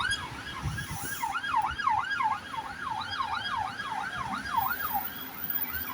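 A police car siren wails steadily in a rapid rising-and-falling pattern, moderately loud and a little distant, heard passing along a street during a walk through a food and craft market.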